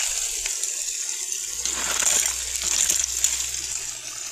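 Water runs through the sluice box of a mini dredge outdoors, a steady close gush of flowing water with a low motor hum beneath and faint rattles of stones and grit washing through.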